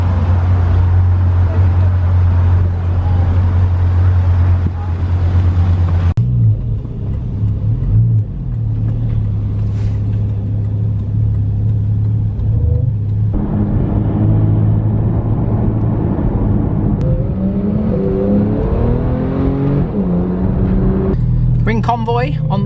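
Porsche Boxster Spyder and other cars driving together in a convoy, a steady loud low engine rumble throughout with shifting tones as vehicles accelerate, people talking over it at times.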